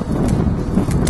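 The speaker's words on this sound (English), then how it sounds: "Screw the wind." Strong outdoor wind buffets the microphone in a continuous, loud, low roaring rush with no pauses.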